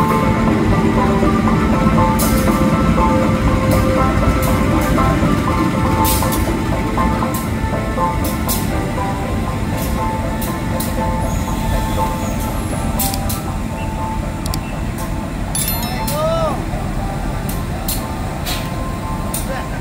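The Tawang Alun train rumbles into a station with steady low mechanical noise, faint squeals and clanks, and a loud continuous roar throughout.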